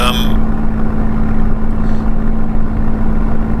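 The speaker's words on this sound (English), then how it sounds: "that noise you heard is what happens when you go a little bit too far on the lean." A steady aircraft engine in Microsoft Flight Simulator, with its mixture set too lean, drones loudly and continuously, its tone rough and slightly uneven throughout.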